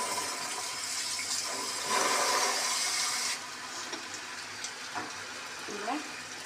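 Water poured into a pan of parse fish curry (macher jhal) makes a bright, steady splashing rush for about three seconds, then fades to softer cooking sounds with a few faint clinks.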